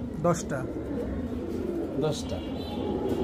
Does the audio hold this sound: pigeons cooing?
yes